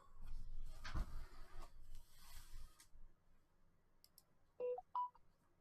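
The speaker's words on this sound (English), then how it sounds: "That was my phone." A mobile phone gives a pair of short electronic tones near the end, faint and close, after a stretch of rustling and handling noise.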